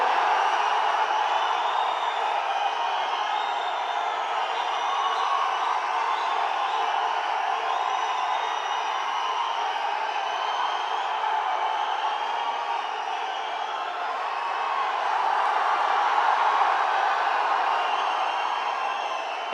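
A large crowd at a TVK party booth committee conference claps and cheers, a steady, roaring wall of noise lasting about twenty seconds that swells louder toward the end.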